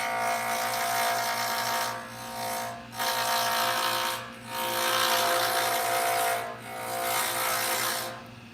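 A pen blank is roughed down on a wood lathe with the diamond-shaped edge of a turning tool, giving a steady, close, scraping hiss that breaks off in short pauses between passes.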